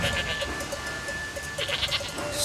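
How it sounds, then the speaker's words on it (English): Goats bleat repeatedly while safely crossing a railway line on the Island of Sodor in an animated children's show. Steady ringing goat-bell tones sound underneath the cries. "the distress bell he had heard was only some goats safely crossing the line"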